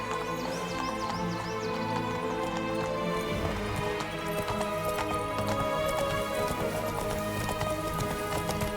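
Roach, Geralt's horse in The Witcher 3, gallops steadily with rhythmic clip-clop hoofbeats throughout, an occasional whinny rising over a busy game soundscape and music.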